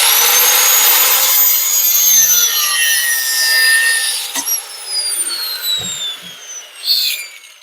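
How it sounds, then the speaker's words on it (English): An angle grinder cuts off an old rubber brake hose on a 1953 Ford 4x4, a loud sustained whine with sliding pitch that eases and ends in a few short bursts and clanks. "let me get my grinder. I'm going to cut this off back here, get rid of the hose"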